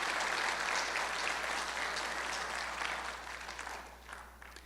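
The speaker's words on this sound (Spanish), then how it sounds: "Démosle un fuerte aplauso a ese Cristo de la gloria." A church congregation applauds during a Spanish-language sermon, sustained broad clapping that holds steady and then thins and fades toward the end, with a low hum underneath.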